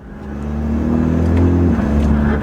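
BMW with a tuned transmission accelerating hard in sport mode, its engine note rising loudly and then dropping abruptly at a quick gear shift before climbing again.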